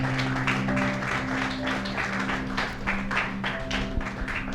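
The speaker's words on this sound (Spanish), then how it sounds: "Un aplauso al Señor." A church congregation claps steadily and continuously, a dense wash of applause filling the room with a low hum underneath.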